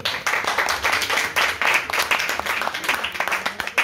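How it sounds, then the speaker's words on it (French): An audience at a conference talk claps warmly, a steady stream of crisp hand claps filling the room without pause for several seconds. "organisée donc, par Dominique Guénin, que je vous demande d'applaudir"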